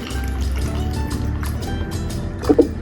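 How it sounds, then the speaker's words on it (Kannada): Water is poured into ground saagu masala of tomato and cashew, a brief close trickle and splash near the end over quiet kitchen background noise. "ಸ್ವಲ್ಪ ನೀರು ಹಾಕೊತಾ ಇದ್ದೀನಿ"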